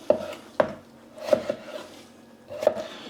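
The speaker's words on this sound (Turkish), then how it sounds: "Patatesleri küp küp yapıyorum." A knife chops potatoes into cubes sharply on a cutting board, a handful of distinct thuds spaced irregularly with short pauses between, close and clear.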